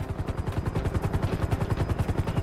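Helicopter in the video game GTA 5 played in VR, its rotor giving a rapid, regular thumping chop, steady and moderately loud with a low rumbling engine hum beneath and no talking.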